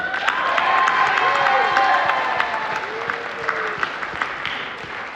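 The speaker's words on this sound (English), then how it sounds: "Let's get a round of applause for our two finalists." A gaming tournament audience applauds two finalists at PAX 2025, with a steady wash of clapping and some cheering, while someone talks briefly underneath.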